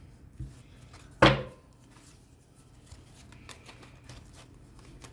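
Tarot cards shuffled by hand during a reading, with one sharp riffle burst near the start and then faint, scattered card flicks and handling noises in a quiet room.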